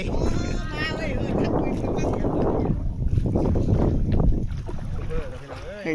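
A small boat is paddled through floodwater in a flooded Thai village, with water swishing and splashing close by under wind buffeting the microphone, loud and continuous.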